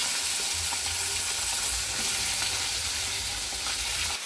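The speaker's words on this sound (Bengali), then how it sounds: "বড়িগুলো আগে ভেজে নিই" Bori, sun-dried lentil dumplings, frying in hot oil in a pan, giving a dense, continuous hiss and crackle that stays loud and close throughout, with no voices.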